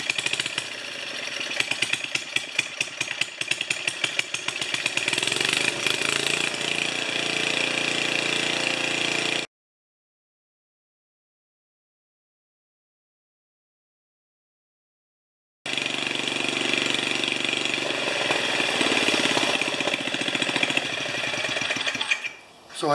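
A 4HP Ariens snowblower engine with a new carburetor runs loud and close, a rapid rattling drone that cuts off completely for several seconds, then restarts and runs again before dying out at the end.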